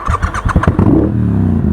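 A Triumph Bobber 1200cc motorcycle engine cranks and fires, a short burst of rough starter chatter catching into a loud, steady idle rumble close by, with no talking.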